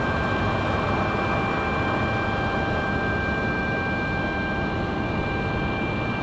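A Boeing 737 jet rumbles at Raleigh-Durham airport as a steady, broad roar with a constant high whine, loud and unbroken, with no voices.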